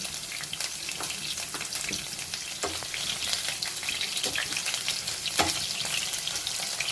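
Chicken bread omelette stuffing frying in hot oil, a steady close crackling sizzle with scattered sharper pops and faint stirring, no talk.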